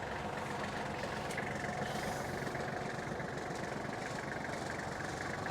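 A Kubota GL27 compact tractor engine idles steadily, giving a constant low, chugging rumble with no break.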